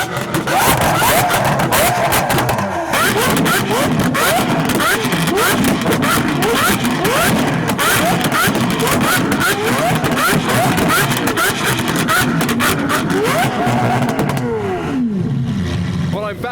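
An Audi Quattro engine roars loudly nearby, with rising revs and rough bursts as the car slides sideways, sustained over many seconds with faint voices underneath.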